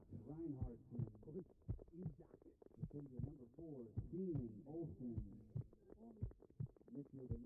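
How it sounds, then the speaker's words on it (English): Thudding heartbeat effect laid over footage from a GoPro worn by a Division I soccer player during a match, with steady low pulsing beats under constant talking throughout. "I like the heartbeat sounds that they added."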